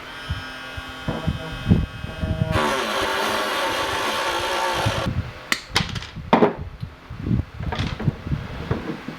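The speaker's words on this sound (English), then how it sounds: "I just used my Dremel to kind of get cut through them to a certain point" A Dremel rotary tool cuts through metal pliers in bursts: a high whine runs for a few seconds among scattered clunks and handling knocks, close by and fairly quiet.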